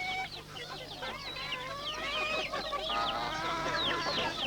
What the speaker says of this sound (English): All the chickens had moved in first.